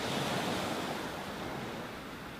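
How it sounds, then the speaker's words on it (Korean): Waves wash onto Dosagum beach on Oeyeondo island, a shore of endless small round mongdol pebbles, in a steady broadband surge that slowly fades with no voices. "하얀 파도가 아름답게 밀려드는 바닷가"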